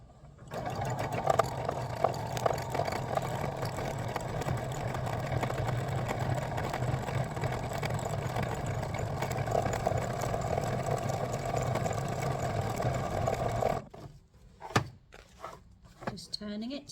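Sewing machine running steadily for free-motion stitching on scrap fabric, a continuous close motor hum and rapid needle chatter that stops abruptly near the end, followed by a few handling clicks.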